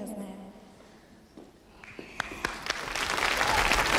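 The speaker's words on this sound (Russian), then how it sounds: "аплодисменты прозвучали в твой адрес" A studio audience on a television quiz show starts clapping, and the applause swells from scattered claps into loud, sustained applause while a voice talks over it.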